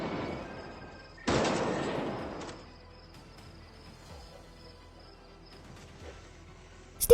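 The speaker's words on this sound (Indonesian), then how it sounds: "seorang tentara Rusia mulai melesatkan tembakan ke berbagai arah" Gunfire from a Russian soldier in a war film scene: one sharp, loud burst of shots, then quiet ambience with faint insect-like chirps and a final sudden crack.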